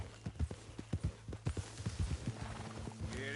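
Horse hooves clip-clop at a steady trot in Red Dead Redemption 2, a rhythmic series of close, distinct strikes with a faint engine-like hum and ambience underneath.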